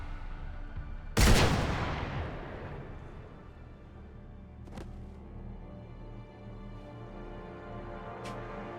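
A single loud gunshot from Mass Effect 3 cracks out near the start and decays into a long echoing rumble, followed by a low ambient hum with two faint ticks.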